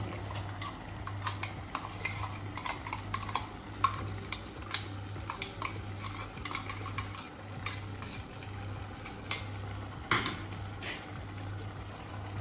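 A spoon scrapes and clinks in a pan as masala paste is stirred into chicken, with soft sizzling underneath and a low steady hum, fairly quiet throughout and without talk.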